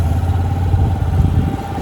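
An older motorcycle idles close by, its engine giving a steady, low, throbbing rumble with a faint mechanical clatter and no pauses.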